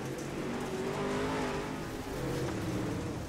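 Dirt late model race cars on the gas together at Cedar Lake Speedway in the iRacing sim, a loud, continuous roar of several engines accelerating at once, steady and unbroken, with no talk.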